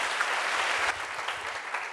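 Dense, steady applause from a church congregation fills the whole stretch, a continuous wash of many hands clapping together at close range.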